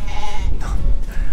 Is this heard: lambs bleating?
yes